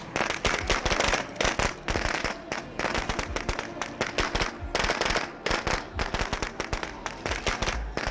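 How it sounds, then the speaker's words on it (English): Rapid, dense popping of video game firecrackers going off in continuous bursts, loud and sharp, crackling on for several seconds without pause. "Better give me my firecrackers."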